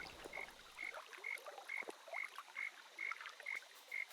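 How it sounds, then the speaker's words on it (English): Ambient frog croaking in the video game Spore: quiet, regular chirping croaks repeating about twice a second over a faint watery background. "Is there a frog around here?"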